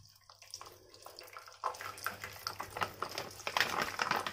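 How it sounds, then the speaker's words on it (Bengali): Desi ghee poured into a pan while making gulab jamun, a soft trickling and splashing that starts faint, then grows steadier and busier with small clinks, close by, with no voices. "এখানে আমি 500 ঘি ঢেলে দিলাম"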